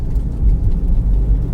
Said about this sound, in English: So that is the sound of hot asphalt on my car